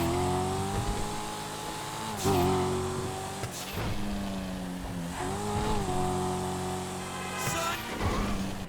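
Dinka Jester Racecar engine in GTA Online revving repeatedly, loud and close, rising and falling in pitch through several throttle blips and gear changes, with a sustained raspy tone and no speech.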